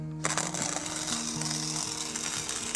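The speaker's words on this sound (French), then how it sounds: "elle est en train de me broyer mon café" Portable battery-powered coffee machine grinding coffee beans, a loud continuous mechanical grinding whir with a stepping ratchet-like pattern, close and steady once it starts, with no talking.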